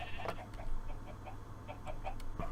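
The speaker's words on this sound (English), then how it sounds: "That's a log chicken." Modded log chicken in Minecraft Sky Factory 3 clucking, a series of short quiet clucks repeating over a steady low hum, no speech.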